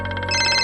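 Phone ringtone sounding for an incoming call, a steady electronic melody with bright repeating tones that shift pitch partway through, close and loud with no voices over it.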